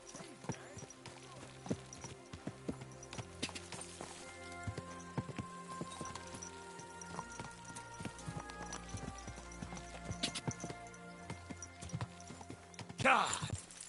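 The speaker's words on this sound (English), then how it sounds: "Nice horses you have there." Steady clip-clop of horse hooves in Kingdom Come: Deliverance II, over a soundscape of game music and ambience, with voices talking at moments.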